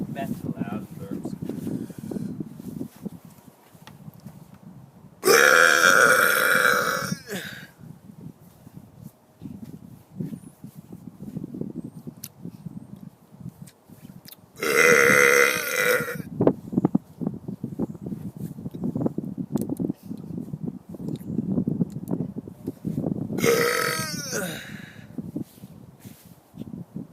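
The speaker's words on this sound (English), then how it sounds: "Back to loud burps." Three loud burps from a person who has just swallowed air, each a short harsh blast standing out over a constant low rumbling background with quieter sounds between them.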